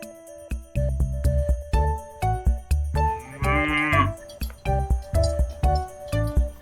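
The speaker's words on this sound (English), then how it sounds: "Cow." Cattle moo in a string of repeated low lowing calls at close range, mixed with bright clinking cowbell-like jingles that accompany them throughout.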